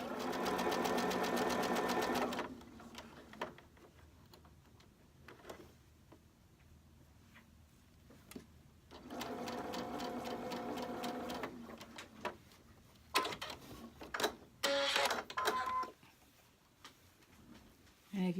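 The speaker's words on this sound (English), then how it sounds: "So when you sew it, you're going to be sewing on the line on this side, and you're going to be sewing on the line on that side." A sewing machine stitches fabric along a pencil-marked line, whirring in steady runs with pauses between them and brief clicks and handling noises in the gaps.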